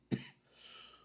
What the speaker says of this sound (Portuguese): Desculpa, eu tô com uma tosse danada.